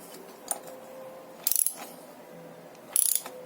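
A wrench snugs a motorcycle oil drain plug back in during an oil change, giving a few quick ratcheting clicks in short bursts, close and fairly quiet, with no talking.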